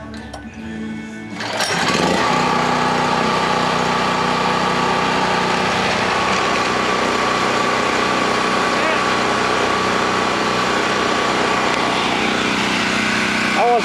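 A portable generator's small engine is pulled to life after a brief rattle, then runs at a loud, steady high-pitched drone close by for the rest of the time, with no pauses.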